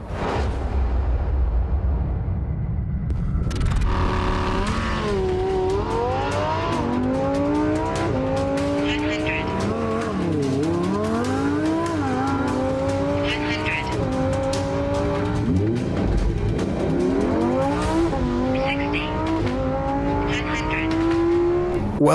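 Lamborghini Huracan STO pulls hard through rapid-fire upshifts, its engine note climbing and snapping down again in repeated sweeps, loud and close with tire squeal, and a voice talking over parts of the run.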